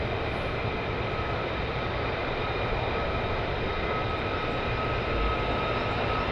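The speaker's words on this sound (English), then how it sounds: "And coming around the corner now is your F-35s. The Valkyries, the 495th." F-35 military jets of the 495th squadron taxiing at RAF Lakenheath, a steady loud jet engine roar and whine sustained throughout with no pauses.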